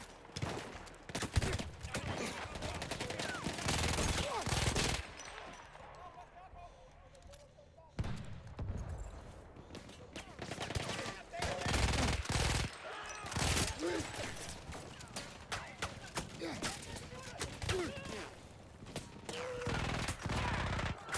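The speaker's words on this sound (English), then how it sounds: "this is a really cool machine gun. Like, it is fast. Really fast fire rate." A fast-firing machine gun in Battlefield 1 lets off several loud, rapid bursts separated by pauses, mixed with other game noise and a voice talking.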